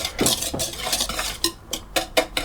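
Dry flour, salt and baking powder stirred in a large bowl for brownie pie, a quick run of scraping, clinking strokes with a spoon against the bowl, close and steady.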